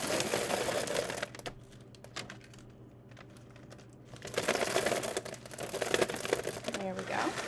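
Food being poured and packed into a paper bag on a kitchen scale, with rustling, crinkling paper and scattered dry rattling that fade briefly mid-way and then return stronger, under a quiet background hum.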